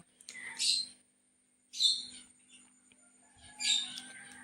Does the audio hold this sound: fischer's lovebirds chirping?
yes